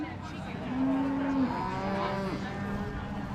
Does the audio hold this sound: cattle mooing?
yes